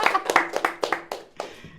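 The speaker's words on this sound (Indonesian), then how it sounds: "Tepuk tangan dulu." An audience at an arts council event claps briefly, about a dozen sharp close hand claps in quick uneven rhythm that fade out within two seconds.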